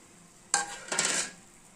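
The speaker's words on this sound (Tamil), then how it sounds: "அதை சூடான தோசை தவால போட்டு நல்லா அடை மாதிரி தட்டி எடுத்துக்கோங்க" Thullu maavu adai batter slapped onto a hot dosa tawa, a sudden wet slap and sizzle followed by a second louder burst of sizzling and patting, close and alone, then fading back to quiet.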